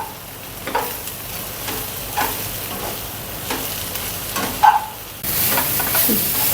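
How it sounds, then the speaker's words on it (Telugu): Gongura (sorrel) leaves frying and being stirred in a pan with salt for Guntur-style pulihora, a steady close sizzle with scraping stir strokes throughout and a louder hiss near the end. "అది ఉప్పు వేసి మళ్ళీ ఇది కూడా ఇట్లానే వేగనిద్దాం."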